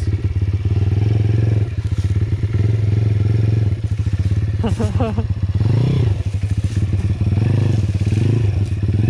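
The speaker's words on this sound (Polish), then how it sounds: "Nie przejadę, silnikiem zawadzam o podłoże." A video game motorcycle engine drones steadily while the engine clatters and scrapes against the ground in a few rough bursts, with a voice talking over it.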